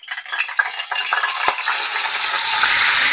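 Chicken pieces for adobo hit a hot pan and sizzle loudly, an initial scrape and clatter giving way to a steady close frying hiss that builds and continues without talk.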